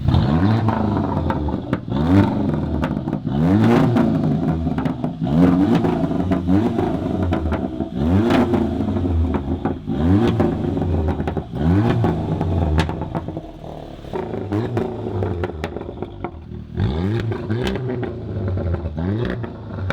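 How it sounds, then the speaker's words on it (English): An engine revving repeatedly through an aftermarket Guerrilla exhaust in rhythmic surges, each rise and fall of the exhaust loud and close, continuing steadily throughout. "You do some revving."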